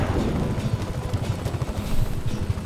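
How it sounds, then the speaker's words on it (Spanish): A large helicopter in Just Cause 3 gives off a steady, rhythmic low rotor thumping under a constant engine roar, close and continuous throughout. "Es un helicóptero bastante grande"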